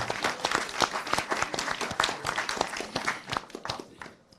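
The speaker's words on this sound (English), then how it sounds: "please can I have a round of applause for my panel?" Audience applause for a science panel at a British Science Week question-time event, a dense burst of many hands clapping that swells and then tapers off toward the end, with no talking over it.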